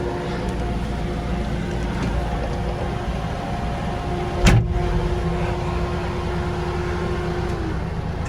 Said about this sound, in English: Let me go for a quick spin before I park the Roxor.